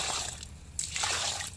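Water poured from close by onto a young nutmeg plant in a home garden, a short gush and splash, then a second pour.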